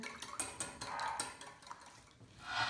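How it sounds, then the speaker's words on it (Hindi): Chicken nugget mixture with egg and milk is stirred in a bowl, giving faint, quick clinks and wet scraping ticks in an uneven rhythm, quiet and close. "और थोड़ा सा दूध डालेंगे। इसको अच्छी तरह से मिक्स कर लेंगे।"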